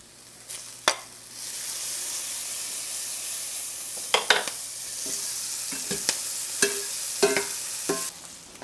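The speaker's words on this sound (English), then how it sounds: "Add a couple cloves of garlic and a little more butter" A couple of garlic cloves with extra butter sizzle in a pan, a steady close hiss broken by sharp scraping knocks of a utensil stirring against the pan.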